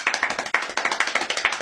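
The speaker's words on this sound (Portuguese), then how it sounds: "Uma salva de palmas pro Tapuer." A short round of hand clapping for a fallen teammate during a Brawl Stars match, with quick, regular claps close by and fairly loud, with no talking over it.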